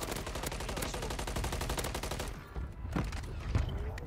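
Rapid automatic gunfire in a first-person shooter video game, a dense, loud burst of rattling shots that thins into a few scattered hits toward the end.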